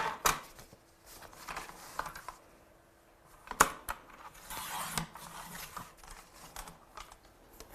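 A kraft-coloured note card is trimmed with scattered soft clicks, taps and brief swishing slides of paper, faint and close with no voices.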